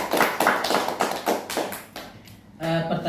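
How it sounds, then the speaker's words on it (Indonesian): A small group of students claps in a classroom, a short burst of several broad, uneven claps that fades out, followed by a brief moment of speech. "Tepuk tangan untuk semuanya."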